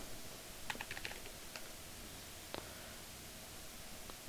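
Keys tapping on a computer keyboard in short, light bursts of clicks, then a few isolated strokes and a final louder one near the end, close and fairly quiet, with no voice.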